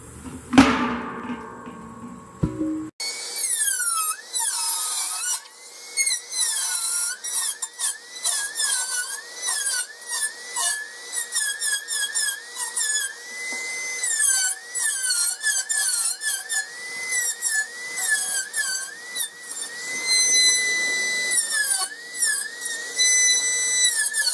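A Dremel rotary tool grinds and cleans up a metal fitting on a charcoal retort, giving a continuous high, whining squeal whose pitch wavers as it bites, heard close up for a long stretch.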